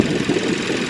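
A Hyundai Sonata engine awaiting a major overhaul runs at a steady idle, a loud, close, even mechanical drone with a slight knocking texture and no talk over it.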